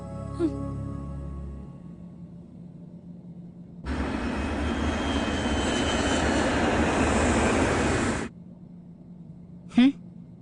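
Airplane engine noise inside the cabin during a flight: a steady broadband roar swells in for several seconds then cuts off, with people talking before and after.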